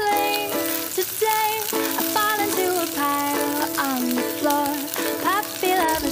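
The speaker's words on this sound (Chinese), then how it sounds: "也要放入姜葱爆香" Ginger and scallions sizzle as they stir-fry in hot oil in a wok, a steady hiss running under a prominent melodic background tune.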